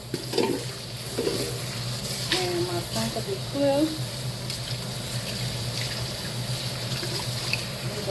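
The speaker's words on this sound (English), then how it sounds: "I need to wash up my few little dishes real quick" Water runs at a kitchen sink while dishes are washed, a steady hiss and splash with a few light clinks, close by, and a voice speaks briefly over it.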